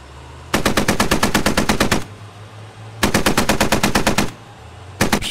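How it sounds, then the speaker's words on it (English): Sustained automatic gunfire in the Squad video game, two long rapid bursts lasting over a second each, loud and close, with a third burst starting at the end and no talking. "Shots being fired."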